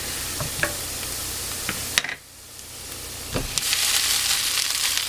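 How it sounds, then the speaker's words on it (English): Rice noodles for pad thai going into a pot, with a sharp clatter and rustle, then a brief lull before the loud sizzle and bubbling resume, close and unvoiced. "So now I'm going to add the rice noodles."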